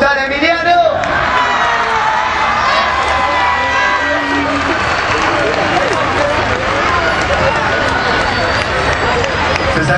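A concert crowd at a rock show in Morón applauds and cheers: loud, roaring clapping mixed with shouts and whoops, sustained for ten seconds, with a voice over a microphone at the very start.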